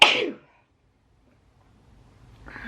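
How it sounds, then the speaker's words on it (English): A single sharp, close sneeze bursts out at the start, followed by near silence and faint rustling toward the end. "That was a well-timed sneeze"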